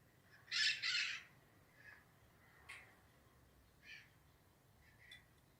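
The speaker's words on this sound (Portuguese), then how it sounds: "É muito bom estar trabalhando e estar ouvindo os passarinhos, como vocês ouviram aqui." Bird calls sound faintly from a distance, a couple of louder squawking calls at first followed by sparse, softer chirps over quiet background.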